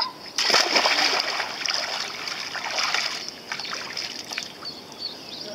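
At a nautical club on Réunion island, a person jumps into the water with a loud splash, and a long stretch of splattering and lapping water follows.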